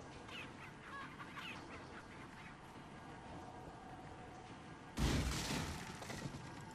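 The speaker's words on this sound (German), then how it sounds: "Hühner, aus dem Weg." Chickens cluck and squawk in Resident Evil 4, short scattered bird calls over low game ambience, then a sudden loud burst of noise cuts in near the end.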